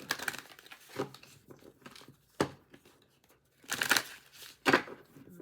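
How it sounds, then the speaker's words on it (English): Tarot cards are handled and shuffled close by in scattered bursts of papery crinkling and rustling, with quiet gaps between the louder shuffles and no talking. "Shuffle one more time, then I'm going to cut the cards."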